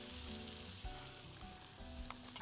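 Chopped onion fries in butter for a courgette béchamel dish, giving a dense, even sizzle with a few soft stirring knocks, close and continuous with no voices.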